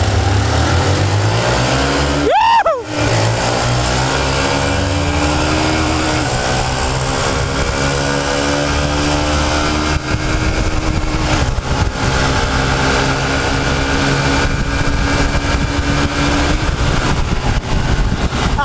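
A Honda Titan 150 motorcycle and several other motorbikes accelerate hard from a standing line. A loud engine drone rises steadily in pitch, with a brief sharp whoosh as a bike passes near the start.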